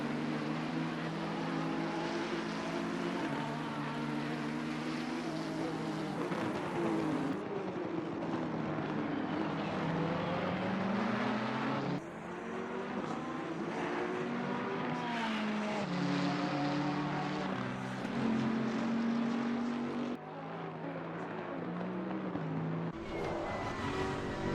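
Race cars lapping Zolder in a sim racing endurance event, engines droning steadily and shifting pitch as they rev, upshift and pass, a loud continuous roar of several cars with no speech.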